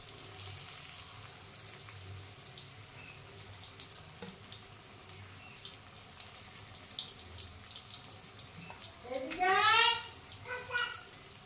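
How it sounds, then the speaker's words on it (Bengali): Pieces of marinated chicken for chilli chicken fry in hot oil with a soft, uneven sizzle and crackle. Voices are heard over it, and the sizzle swells briefly near the end. "এরপরে চিকেনগুলোকে আস্তে আস্তে ভেজে নেব।"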